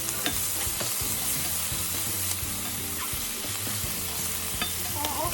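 Potatoes and eggs with chicken bouillon fry steadily in a pan, a continuous dense sizzle and crackle with scattered sharp pops and light stirring clicks throughout, close and fairly loud, with no talking.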